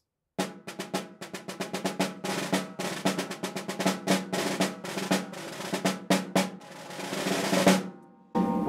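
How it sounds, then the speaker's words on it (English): A snare drum with the snares engaged, played in a long run of rapid strokes with bright, buzzy rattle; the rhythm stays busy and loud, swells into a roll near the end, then stops abruptly. "So when I play it, you get a sound like this."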